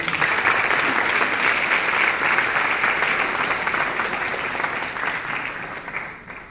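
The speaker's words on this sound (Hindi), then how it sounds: "सर के लिए एक बार जोरदार तालियां।" Enthusiastic audience applause at a corporate stand-up comedy show, dense sustained clapping from a crowd that holds steady for several seconds before tapering off at the end.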